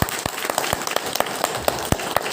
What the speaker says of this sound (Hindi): एक बार जोरदार तालियां बजाएंगे यहाँ परमेश्वर की।